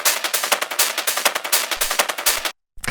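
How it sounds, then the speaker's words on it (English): A loud, heavily distorted schranz rave loop of rapid, chopped percussive hits in a driving rhythm, cutting out briefly near the end before starting again. "I've then got this distorted loop"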